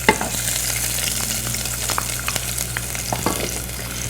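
Chopped onion frying in oil, stirred with occasional light scrapes over a constant close sizzle and hiss that runs without a break, with no talking.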